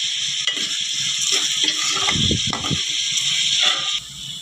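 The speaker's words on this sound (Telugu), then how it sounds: "ఉల్లిపాయలు బాగా వేయించుకోవాలి" Onions frying in hot oil with curry leaves and green chilies for a chicken dish, a steady close sizzle with bursts of stirring and scraping in the pan, no talk.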